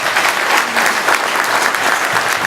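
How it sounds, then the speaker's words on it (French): An audience at a 2014 municipal campaign closing rally applauds steadily, a dense, loud wash of clapping that holds evenly throughout. "Et ensuite, Christian, vous pouvez l'applaudir aussi."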